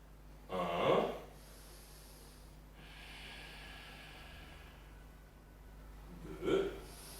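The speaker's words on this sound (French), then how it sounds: "J'inspire et j'expire" Two audible breaths mark an Ashtanga Vinyasa yoga sequence, a strong nasal inhale near the start and another near the end. Faint airy breathing fills the quiet stretch between them.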